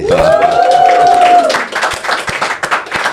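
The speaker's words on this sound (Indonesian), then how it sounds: "Dan tepuk tangan buat Om Deddy Miswar." A talk-show studio audience claps in a short burst under a held sung or musical tone at first, then scattered individual claps continue for a couple of seconds.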